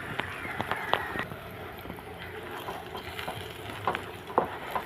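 Egg stirred with cluster beans in a hot frying pan, a steady sizzle under repeated scraping and tapping of the spatula, close and moderately loud.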